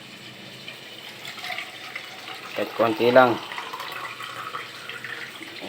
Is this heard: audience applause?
no